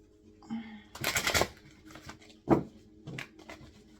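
Tarot cards shuffled by hand, a quiet riffling burst followed by several short soft card slaps and shuffles in an uneven rhythm, close and faint.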